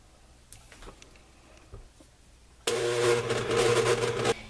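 An electric stand mixer kneads stiff peppermint patty dough with powdered sugar, starting abruptly with a loud steady whirring motor that runs for under two seconds and then cuts off, after a few faint clicks.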